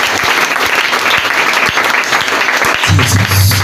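A church congregation in Garoua claps loudly and continuously in dense applause, with a low murmur of voices and a deeper rumble entering near the end.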